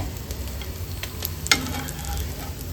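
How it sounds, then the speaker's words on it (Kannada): Rava-coated silver fish shallow frying in oil on a tawa gives a steady close sizzle, with one sharp spatter near the middle and light scraping throughout; no one speaks. "ಎಲ್ಲ ಮೀನನ್ನು ಇದೇ ಥರ ಫ್ರೈ ಮಾಡ್ಕೊಳ್ಳೋಣ"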